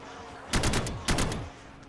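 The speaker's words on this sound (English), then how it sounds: "Just shoot at him a little bit" Two bursts of rapid gunfire aimed at a zombie boss in a first-person shooter game, each volley lasting about half a second with a brief pause between, loud and close, with no talking.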